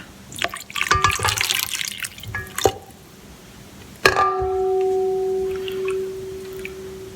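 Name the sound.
water poured into dough mixture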